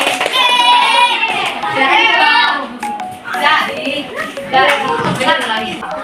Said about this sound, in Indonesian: Tepuk tangan untuk Joni